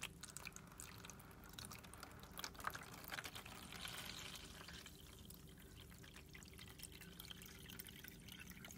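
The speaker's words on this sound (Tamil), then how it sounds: "சரி வாங்க இப்போது இதில் வந்து தண்ணியை ஊற்றுவோம்." Water pours gently and steadily into a plastic bottle for a homemade fountain, a faint continuous trickle close by with no talking.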